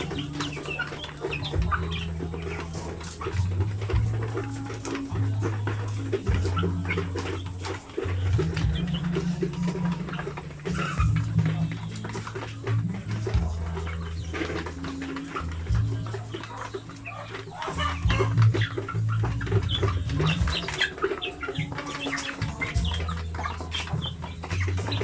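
Hens cluck steadily around a backyard flock, with several birds calling over one another and a constant low hum running beneath, loud and continuous throughout.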